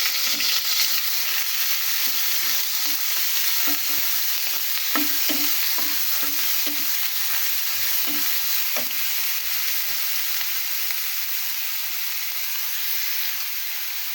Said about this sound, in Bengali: পেঁয়াজটা লাল করে নিচ্ছি পেঁয়াজটা লাল হয়ে গেছে মশলা দিয়ে দিলাম